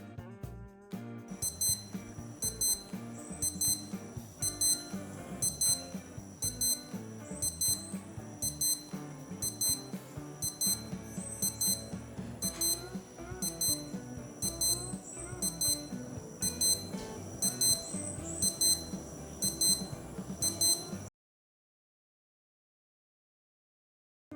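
A Casio AQ-230GG digital watch alarm beeps in a steady, rapid repeating pattern of high-pitched tones, close and continuous for about twenty seconds before cutting off into silence.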